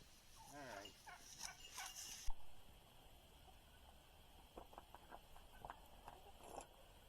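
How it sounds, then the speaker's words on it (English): A farm turkey gobbles in a rapid warbling burst near the start, followed by quieter scattered bird calls and rustling in a winter barn setting. "Turkey! He wants in there, but he doesn't like to stay in there."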